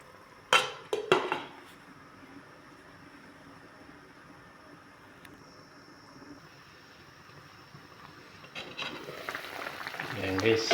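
A metal lid clanks onto a pot of chicken soup with Chinese cabbage, two or three sharp clatters close up near the start, followed by quiet simmering and rising kitchen noise.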